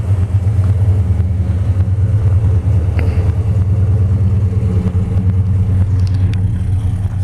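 A 1964 Dodge 330 two-door sedan with a 426 Hemi V8 idles loudly nearby, a deep, steady rumble with a lumpy, throbbing rhythm that continues unbroken throughout.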